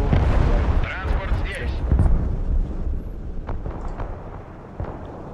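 Artillery fire in the Broken Arrow war game, heavy booms and rumbling blasts rolling under and between player voice chat, loud and close with scattered distant impacts.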